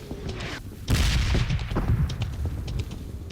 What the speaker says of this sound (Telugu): రెడ్ జోన్ లో బాంబులు పడిపోయారు ఎవరి మీద,